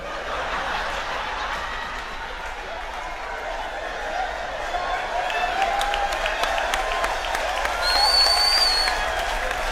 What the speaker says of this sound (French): N'applaudissez pas comme ça